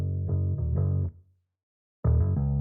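Beefy synth bass from a Clean Plec Bass preset, shaped with EQ and a UAD Little Labs Voice of God bass enhancer, plays a short phrase, stops briefly, then resumes, loud and dry with no voices.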